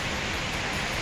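Water pours and splashes out of Mattupetty river dam, a steady loud broadband rush with no voices.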